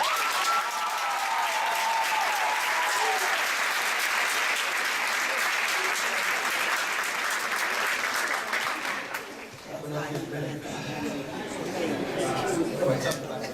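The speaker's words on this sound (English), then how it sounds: "Give yourselves a round of applause." Loud, sustained applause from a large audience at a secondary school commencement fills most of the span, then fades into murmuring chatter and voices.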